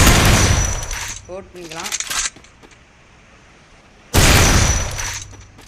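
Gunfire in a shooting video game: loud bursts of shots open the clip and return near the end, with someone talking between them and a faint, low ambience underneath.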